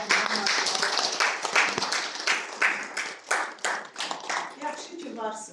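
Rhythmic group clapping at a book presentation in the Heydar Aliyev Centre in Neftchala, loud and fairly close, with claps in uneven pulses and voices talking over them near the end.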